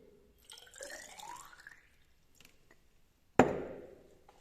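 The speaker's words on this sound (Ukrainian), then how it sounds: "Наливаю у велику пробірку воду." Water poured into a large laboratory test tube, a short gurgling pour whose pitch rises as the tube fills, followed after a pause by a sharp glassy clink close by.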